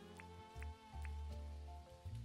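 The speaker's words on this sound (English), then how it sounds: "Ooh, it's raining." Rain patters steadily in the farming life-sim video game Dinkum, a soft continuous wash layered with game music tones over a couple of seconds.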